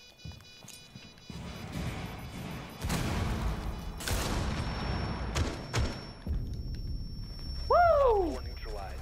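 Grenade explosion in Rainbow Six Siege, with a loud thudding blast followed by crashing debris and rumble, then a short rising electronic tone, with talk over the game.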